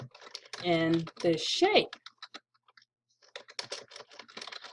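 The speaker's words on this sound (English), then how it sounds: "it's here that I start to type my text" Rapid clicking of typing on a computer keyboard comes in short bursts after a brief stretch of quiet talk, close and fairly soft.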